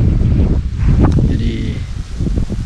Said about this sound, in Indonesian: Anginnya kencang